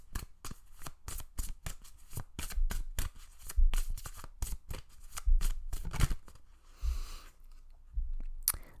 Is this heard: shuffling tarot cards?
yes